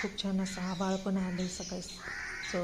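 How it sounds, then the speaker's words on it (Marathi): Crows caw repeatedly in harsh, rhythmic bursts close by, while a person speaks over them; no distinct sparrow chirping stands out. "कावळ्यांचा काव काव चिमण्यांचा चिवचिवाट मस्तच"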